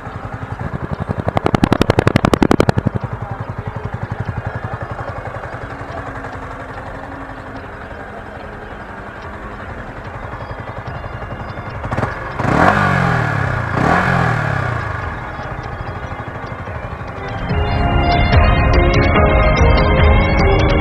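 A Yamaha MT-15 motorcycle engine starts and settles into a steady idle, broken by a few sharp throttle revs that rise and fall, then a rougher, louder stretch near the end, recorded close up without talk.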